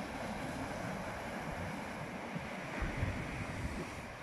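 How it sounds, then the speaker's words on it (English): Large ocean rollers breaking onto the shore create a steady, low rumbling wash with a swell of surf near the end, and wind buffets the microphone. "What's happening is we're getting these massive rollers coming in."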